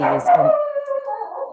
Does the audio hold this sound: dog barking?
yes